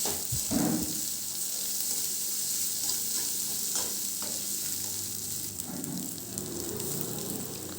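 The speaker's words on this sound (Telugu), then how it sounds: "కొత్తిమీర కూడా మనం బాగా కట్ చేసుకొని కలుపుకున్న గుడ్డు కూరలోకి వేసుకొని బాగా మిక్స్ చేయాలి" Chopped coriander is mixed into a simmering egg curry, a steady soft sizzle with a few scraping stirs of the spoon, close and without speech.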